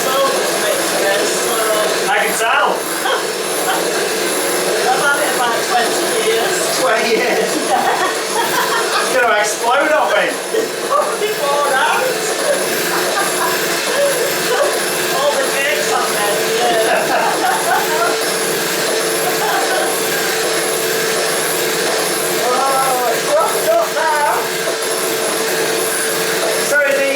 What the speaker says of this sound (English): Actually, it is quite a few years old, this mixer, so... I can tell.